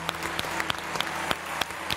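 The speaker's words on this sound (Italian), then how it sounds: "un applauso a Marco da Milano" A short burst of applause from a live television studio audience, several hands clapping in quick irregular bursts from a small group nearby.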